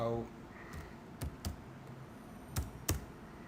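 Light computer keyboard typing, a few scattered clicks of separate keystrokes, fairly close and soft, with faint room noise between them.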